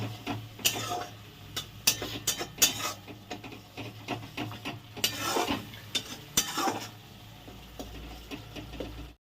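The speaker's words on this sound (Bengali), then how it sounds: "ধনের গুঁড়ো দিয়ে এবার এটাকে কষাতে হবে তেল ছেড়ে আসা অবধি মোটামুটি এটাকে ভালো করে কষিয়ে নিতে হবে মশলাটাকে" A spoon stirs and scrapes masala with coriander powder frying in oil in a pan, with irregular clattering strokes over a low sizzle, close and fairly loud, ending in quieter frying.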